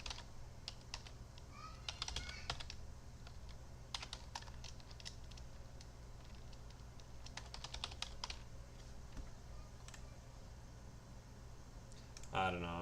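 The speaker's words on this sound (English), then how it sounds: "I'm just clicking on stuff." Rapid clicking and tapping on a computer keyboard and mouse, irregular bursts of sharp, close clicks with short pauses, under a low steady background hum.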